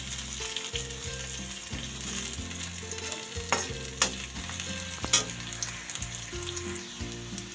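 Whole spices such as fennel and cumin frying in oil for a chicken gravy: a continuous loud sizzle with a few sharp clatters of stirring, over soft background music.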